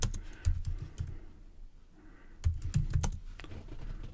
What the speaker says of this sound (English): then you could type some text in.